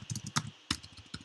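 Quick typing on a computer keyboard, a short run of close, crisp key clicks with a brief pause in the middle.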